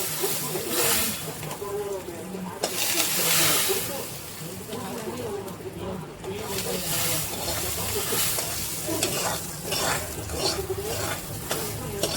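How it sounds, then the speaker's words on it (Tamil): Vermicelli (semiya) roasting in a hot pan gives a soft continuous hiss and occasional stirring scrapes, close and moderate in level, with a person talking over it much of the time. "சேமியா இதெல்லாம் நல்லா வந்து வறுபட்டுருச்சு."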